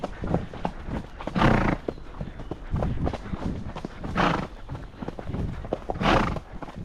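A horse out on a trail ride gives several loud snorting, whinnying bursts over irregular hoof clops, fairly close, with a voice faintly in the background.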